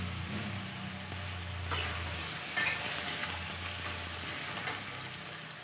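Potatoes and petai beans stir-fry in a pan with a steady, close sizzle, spatula scrapes and stirring knocks cropping up now and then over the constant frying hiss.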